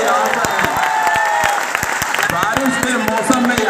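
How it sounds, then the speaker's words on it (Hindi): Audience applause fills a hall in Patna at a teachers' meet-up, a dense, steady wash of clapping with crowd noise and a voice speaking over it throughout. "एक बार भाई जोरदार तालियां इनके लिए बजाओ"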